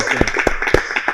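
A podcast studio audience claps for invited guests, a short burst of scattered hand claps with a few distinct sharp slaps, fairly close.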